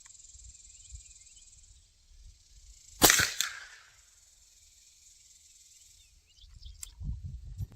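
A single loud, sharp rifle shot from a .44 Magnum CVA Hunter fired at a 100-yard range, cracking out in the middle of a quiet outdoor stretch with insect buzz, then decaying with a short rolling echo.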